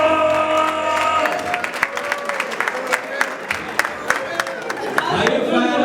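A crowd at a Lagos tech event applauds, with clapping and cheering mixed with voices and crisp individual claps. Tonal sound from music or speech sits underneath throughout.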